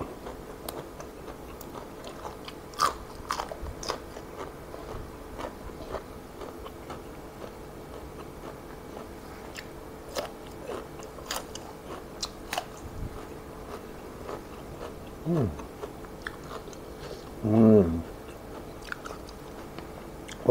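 Close, quiet chewing and biting of fried egg and grilled mackerel with shrimp paste chili dip, with soft intermittent crunches and mouth clicks scattered over twenty seconds, and no talk.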